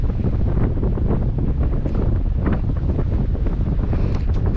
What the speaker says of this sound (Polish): Mimo tego, że tak bardzo, bardzo dmucha, bo naprawdę dmucha i to powietrze jest takie ostre